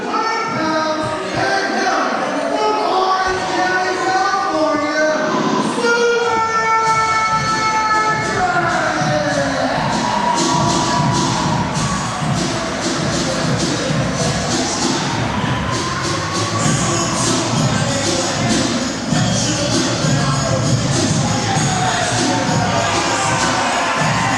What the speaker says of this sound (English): You hear the crowd for Super Dragon, Eric.